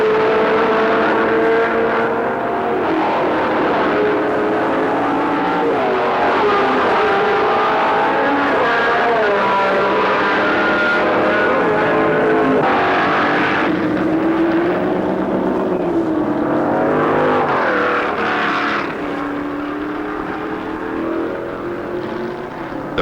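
Open-cockpit race cars from 1969 tear flat out through a downpour on a rain-soaked circuit, engines roaring loud and continuous with pitch sweeps as cars pass and shift, a dense overlapping snarl with no pauses.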